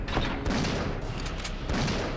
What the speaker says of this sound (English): Magnum does a lot more damage than pretty much everything else in that room, but Nemesis has a rocket launcher and he is not afraid to use it